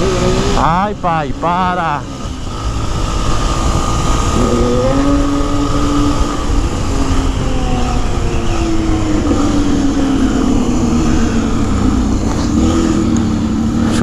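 A motorcycle engine revving loudly up close, rising and falling pitch sweeps with a sustained throaty drone, while people talk over it and shout briefly near the start.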